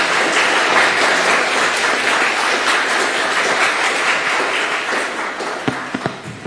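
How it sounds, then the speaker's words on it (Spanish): Loud, sustained applause from an audience for a university panel on food research, a dense roar of clapping that tapers off near the end into a few scattered claps. "Un aplauso a todo el panel."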